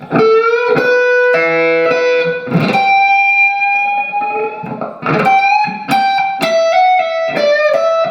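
A slow electric guitar blues lick: single notes bent and held, sliding between pitches with pauses, played up close with a clean, sustained tone.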